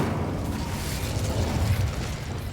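Incendio fire spell cast in Hogwarts Legacy, a dense, rumbling burst of flame that roars steadily for a couple of seconds, with no talk.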